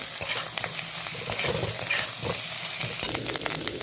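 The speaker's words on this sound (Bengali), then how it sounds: "ভালো করে এবার একটু নেড়ে নেব।" Crumbled fish roe is stirred with fried onions in a hot pan, giving steady close sizzling with repeated scraping strokes of a spatula and no talk.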